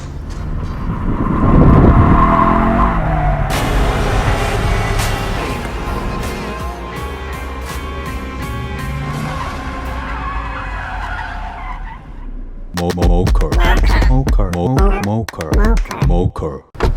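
A facelifted Kia Stinger 2.5 turbo all-wheel-drive car engine roars as tires squeal in a long, loud drift, then the engine note rises and revs sharply in bursts nearby.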